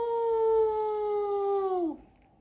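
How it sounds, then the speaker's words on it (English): A werewolf howls in one long, loud, sustained tone that holds steady and then slides downward before cutting off, heard alone with no talk. "The werewolf howled again."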